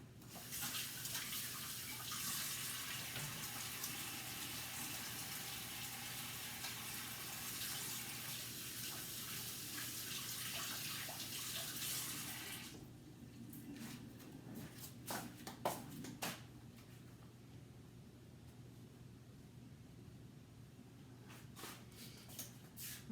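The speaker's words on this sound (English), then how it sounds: "So I'm going to wash my hand again." A kitchen tap runs steadily for hand washing, a loud continuous gush of water for about thirteen seconds before shutting off, followed by light scattered clatter near a sink.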